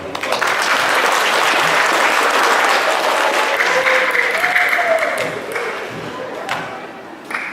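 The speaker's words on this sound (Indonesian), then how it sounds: "Kasih tepuk tangan." An audience applauds at the closing ceremony of a provincial governor's cup chess championship, a dense, loud wash of clapping that rises at once and tapers off toward the end.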